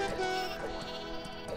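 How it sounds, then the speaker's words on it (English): A sheep bleats in a wavering, nasal cry that holds steady for over a second with a few pulsing wobbles, loud and close with no talk over it. "I just loved the sheep"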